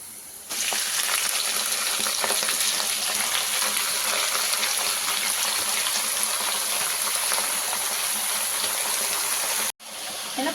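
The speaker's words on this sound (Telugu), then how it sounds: "ఇప్పుడు దీంట్లో మనం కడిగి పెట్టుకున్న పాలకూరని దీంట్లో వేసేసుకుందాం." Washed spinach dropped into hot tempering in a pan, bursting into a loud, steady hiss and sizzle that holds evenly for nearly ten seconds before cutting off abruptly.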